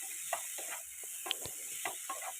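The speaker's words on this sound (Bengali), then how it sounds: "হাই ফ্লেমে একটু নেড়ে নেওয়া হবে" Carrot and broccoli tossed in a hot pan over a high flame, giving a steady sizzle broken by a few soft scraping stirs and one sharp clink of a utensil.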